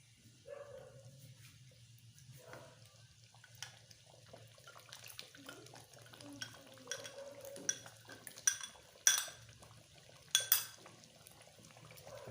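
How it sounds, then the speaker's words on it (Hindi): Beef nihari stirred in a pot, heard as scattered spoon scrapes and metallic clinks against the pan over a quiet, faintly watery background, growing louder toward the end; no voices. "साथ साथ हिलाते जाना है।"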